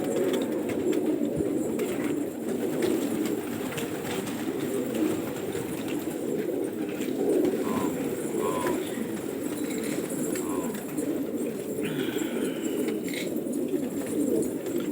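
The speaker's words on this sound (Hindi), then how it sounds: "ये देखिए माशाल्लाह से कैसा प्यारा कबूतर है" Gola pigeons coo softly amid a busy background hum, with a few faint bird calls over the steady noise.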